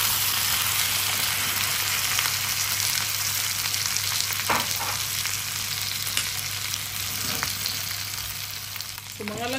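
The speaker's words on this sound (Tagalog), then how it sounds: "Ilalagay na natin yung ating main ingredients. Ang pata. Parang nyo lang siyang igisa." Pork hock sautés with onions in a hot pan, a dense, loud and continuous sizzle with a few brief spatula scrapes and clicks over it.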